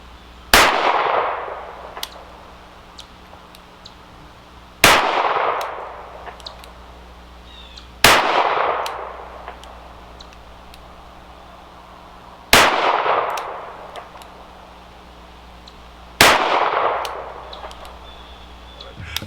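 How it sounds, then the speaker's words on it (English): A Smith & Wesson 351PD .22 WMR pocket revolver fires CCI 40 grain higher-velocity rounds outdoors, five sharp loud single shots spaced several seconds apart, each ringing out with a decaying echo. "that's only shooting the first 7 shots out of the 40 grain higher velocity CCI"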